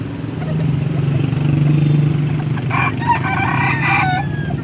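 A stag rooster at a gamefowl market in Angeles, Pampanga lets out one loud, close crow near the end, over a steady hum of nearby engines and background murmur.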